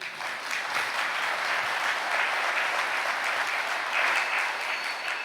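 Steady applause from a church congregation at a Malayalam sermon, a dense, even wash of clapping sustained throughout at moderate volume with no talk over it.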